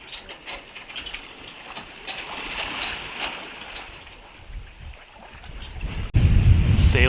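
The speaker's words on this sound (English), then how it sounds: "Sailing's going well as we're making our way around to Muxia" A sailboat rolls through swells off the Galician coast of Spain: soft rushing water and wind noise with gentle swells of sound, ending in a sudden, louder blast of wind buffeting the microphone.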